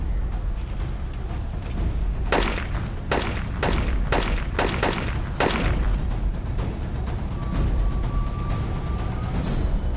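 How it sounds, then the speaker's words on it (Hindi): Gunfire in a TV crime drama scene cracks in a series of sharp, irregular shots over a constant loud rumbling background, with a faint tone near the end. "अरे मैं कवर फायर करता हूँ ना"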